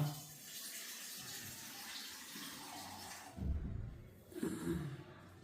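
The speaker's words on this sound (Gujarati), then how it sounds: "ચા માટે પાણી લીધું છે" Water poured into a pot for making tea, a faint steady rushing flow followed by two louder splashing bursts close by, alone without talk.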